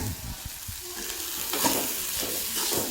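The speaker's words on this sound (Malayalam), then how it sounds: "ഇനി കുറച്ച് നേരം വറുത്തെടുക്കാം." Something fries in a pan while cardamom is added for an unnakkaya recipe, a soft close sizzle broken by short stirring scrapes and light clinks.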